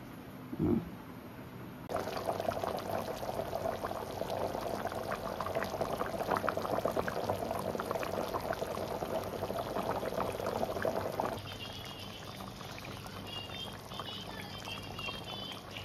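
Spicy fish curry bubbles in a covered pot, a steady hiss of boiling and simmering liquid that starts after a brief clatter, holds evenly for about ten seconds, then drops to a softer simmer.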